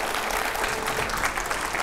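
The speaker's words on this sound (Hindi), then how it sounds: "स्वागत करिए जोरदार तालियों से" TV studio audience applauding to welcome a guest, BJP spokesman Sudhanshu Trivedi, a steady, even wash of many hands clapping at moderate loudness with no pauses.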